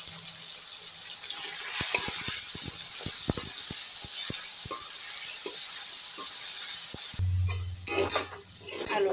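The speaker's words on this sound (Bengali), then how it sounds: "আমি আলুগুলোকে ভেজে নেব।" Potatoes frying in hot oil in a wok, a steady bright hiss running throughout with scattered crackles and pops, then a short burst of clattering and shifting near the end.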